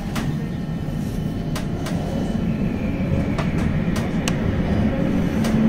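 A West Midlands Metro tram runs toward Wolverhampton Station with a steady, close rumble from the cabin, marked by scattered sharp clicks and rattles from the track.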